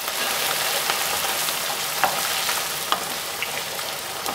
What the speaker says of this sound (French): Et donc maintenant les oignons vont s'imprégner de l'eau versée pour devenir fondants.